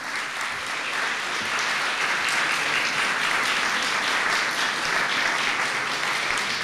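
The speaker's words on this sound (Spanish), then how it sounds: "El aplauso para ellos." An audience at a public talk in Miraflores breaks into sustained applause, a dense, even wash of clapping from many hands that holds steady throughout without pause.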